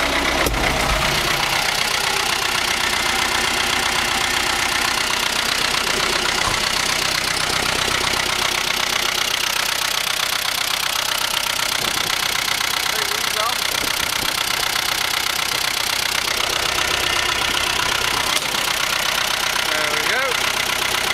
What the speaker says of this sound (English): Running tractor.